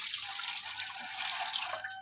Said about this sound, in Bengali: দেখেন নুডলসটা সেদ্ধ করার জন্য আমি পানি দিয়ে দেবো